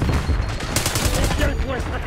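Rapid bursts of gunfire from a PP-919 in a first-person shooter video game, loud and continuous across the whole moment with dense overlapping shots.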